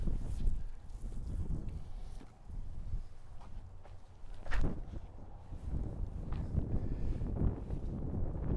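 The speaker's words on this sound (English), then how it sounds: "Oh, this wind." Wind gusts buffet the microphone on an open disc golf course in Texas, a continuous low rumbling roar that swells and eases, with a stronger gust midway.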